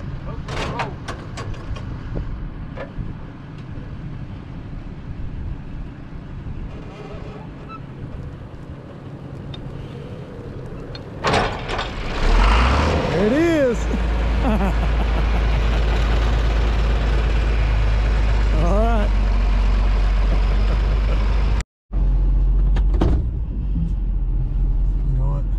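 A truck in four-wheel drive crawls over wet ground while loading Coastal Bermuda hay bales, a quiet idle swelling midway into a loud, steady low engine rumble close by.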